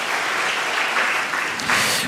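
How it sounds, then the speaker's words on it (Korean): A church congregation claps in encouragement for new members being sent out, a brief, even burst of applause with no speech over it. "오늘 파송 받으시는 우리 새 가족들에게 좀 격려의 박수를 좀 해드릴까요?"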